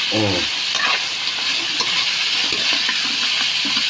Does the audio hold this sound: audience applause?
no